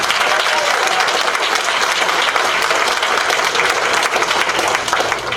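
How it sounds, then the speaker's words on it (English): Audience applause at a school district board meeting, a dense, sustained round of many people clapping, loud and even without pause. "Let's give a round of applause."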